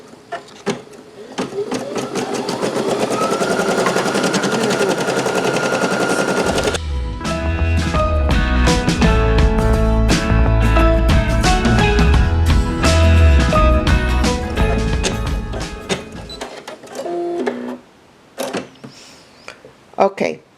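An embroidery machine stitches an HTV appliqué onto a shirt, its rapid needle hammering into a loud, steady mechanical rattle for most of the clip before stopping near the end.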